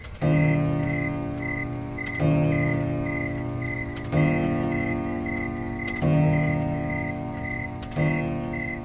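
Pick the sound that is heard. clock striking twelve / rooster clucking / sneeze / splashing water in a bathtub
clock striking twelve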